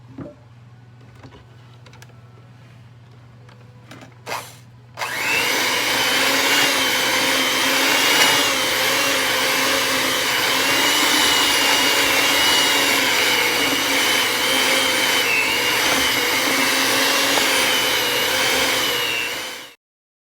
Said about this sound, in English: Come on, mixer. You're a high-powered mixer.